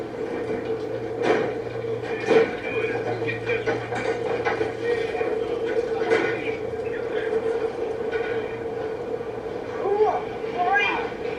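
Rumbling rail carriage noise hums steadily with occasional clanks and thumps, while people talk quietly over it.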